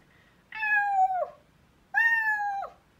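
A person's voice imitates a full-grown cat meowing, giving two long, clear, drawn-out meows with a short pause between them, close and fairly loud.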